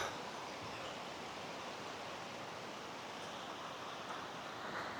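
Gentle, low waves wash steadily onto a rocky beach lined with palm trees, making a soft continuous surf hiss with no distinct breaks, fairly distant and unaccompanied by voices.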